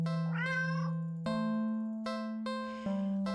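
Several meows from a cat in a video game repeat over a steady synthetic tone, the first a bent, wavering mew and later ones shorter, all clear and close with no talk.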